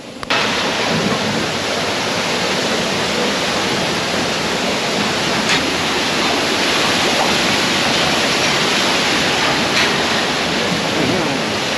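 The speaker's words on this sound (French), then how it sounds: "en face de vous, donc, vous avez donc, la grosse roue à eau" Large water wheel turning at the River Antoine rum distillery in Grenada, a steady, loud rushing and splashing of water that runs unbroken from start to finish, with no voices over it.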